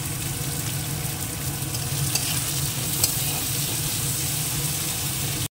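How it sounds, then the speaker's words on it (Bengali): Chopped onions frying in a pan, a steady, even sizzle that stays close and loud throughout, with faint stirring and no talking. "পেঁয়াজটা একটু ভেজে নিই।"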